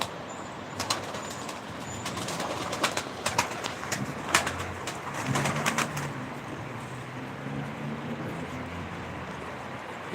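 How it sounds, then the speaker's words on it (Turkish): Soft cooing of pigeons, part of a group of thirteen or fourteen birds, with occasional fluttering and clicks, fairly close, over a low background hum. "Akşam 13-14 tane kuş var."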